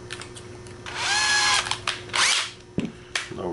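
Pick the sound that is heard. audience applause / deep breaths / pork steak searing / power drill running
power drill running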